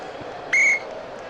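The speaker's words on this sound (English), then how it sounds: "Whistle on the play and an offensive foul by White." During a 1976 NBA playoff game between Philadelphia and Boston, a referee blows one sharp, loud, shrill whistle blast lasting about a quarter second over faint arena background.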